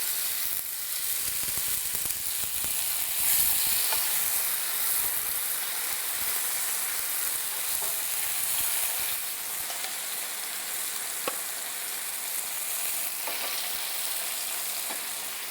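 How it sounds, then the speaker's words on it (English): Marinated pork pieces searing flat in a hot pan, a steady dense sizzle and hiss lasting throughout with faint occasional pops, no talking. "Now let them just sear."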